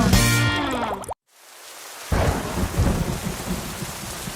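Steady rain pours down with a loud crash of thunder, a brief near-silence, then heavy rainfall and rumbling resume.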